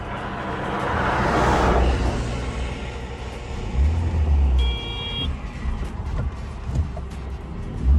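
A vehicle engine drones in first gear, a loud, low rumble that swells and surges as it pulls along. Faint traffic-like noise sits in the background, and no one speaks.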